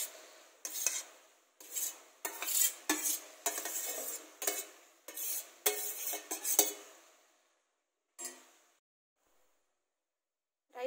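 A rice and carrot mixture is stirred in a pan with a utensil, a series of fairly quiet rhythmic scraping strokes, then a pause and one last scrape.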